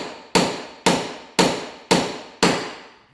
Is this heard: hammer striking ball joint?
yes